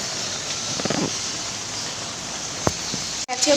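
Steady first monsoon rain hisses across the recording, with a few faint thumps and a brief sharp knock near the end.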